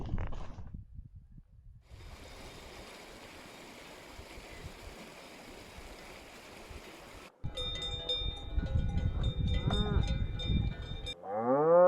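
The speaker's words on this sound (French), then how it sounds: "je suis en train de descendre en même temps que les vaches qui descendent de l'alpage là-haut. Donc vous entendez peut-être le bruit des cloches." A herd of cows comes down from a high alpine pasture, cowbells clanking and tinkling against soft shuffling, with a close moo near the end, outdoors and fairly quiet overall.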